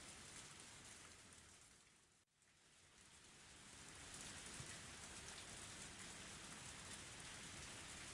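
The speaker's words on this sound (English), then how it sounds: "Only the sound of the pouring rain filled up the silence." Steady pouring rain from the Higurashi When They Cry video game fills the scene with a dense, even downpour, briefly dipping once before swelling slightly louder and continuing unbroken, with no voices.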